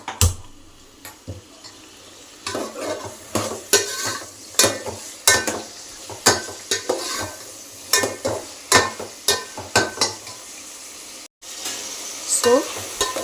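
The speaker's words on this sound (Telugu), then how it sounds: "సో ఇది కొంచెం ఫ్రై అయ్యే వరకు దీన్ని తిప్పుకోవాలి." Onions and green chillies are stirred as they fry. A spoon scrapes the pan in sharp, regular strokes over a light sizzle, with a short pause near the end.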